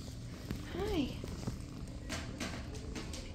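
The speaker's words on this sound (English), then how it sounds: "Somebody's purring right in my ear." A soft, close shelter kitten purr rumbles steadily while a voice speaks nearby.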